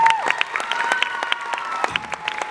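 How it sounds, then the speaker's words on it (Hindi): Scattered claps from a dance show audience, sharp individual hand claps with uneven rhythm over a lingering sustained tone, fairly close and moderately loud. "तो प्लीज़ जोरदार इनके लिए ताली बजाइए।"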